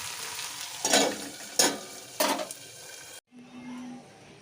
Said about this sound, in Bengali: আলুটা দিয়ে একটু তেলের মধ্যে ছেড়ে ভাজা হচ্ছে